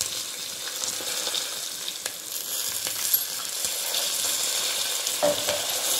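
Black hen curry pieces frying with rock-salt water in a pan, a steady close sizzle with a faint scrape of stirring and no talk.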